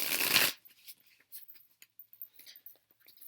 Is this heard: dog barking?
no